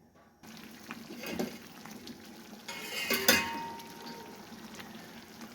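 Chakwali halwa of swollen cracked wheat porridge with sugar syrup is stirred in a small pot, giving close scraping strokes over a soft sizzle that swells mid-way, with no talking.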